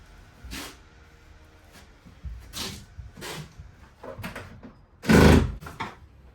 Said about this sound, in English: This is one whole unit, so I'm just going to really kind of take it apart and see what I'm left with.